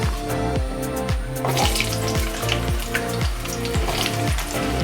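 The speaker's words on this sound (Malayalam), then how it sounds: "ബാക്കി മാങ്ങയും കൂടെ നമുക്ക് വറുത്തെടുക്കാം" Mango pieces fry in hot oil for a fried mango pickle, a steady bubbling sizzle punctuated by regular rhythmic clinks, close and loud with no speech.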